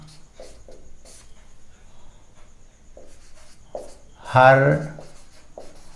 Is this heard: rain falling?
no